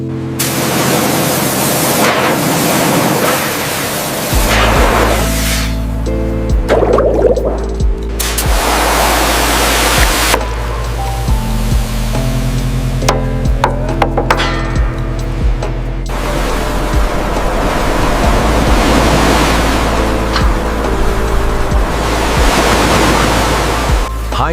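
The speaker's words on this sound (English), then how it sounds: "High-pressure water jets strip away decades of grime, revealing the original paint below." High-pressure water jets blast grime off the steel hull of an old ship, a loud, continuous hiss and roar that surges and cuts out in bursts over a low, steady rumble.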